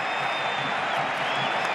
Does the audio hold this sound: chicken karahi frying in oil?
no